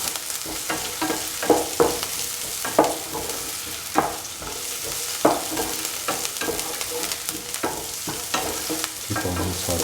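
Onions sizzle steadily in a hot pan for eggplant fried rice, with repeated scraping stirs every second or so, close and fairly loud, no talking.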